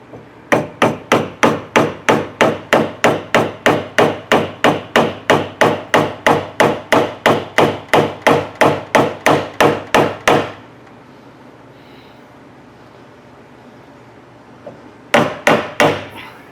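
Rapid, steady hammer blows while working on a 1964 upright-engine Volkswagen, about three per second for ten seconds, loud and close; a pause, then a couple more strikes.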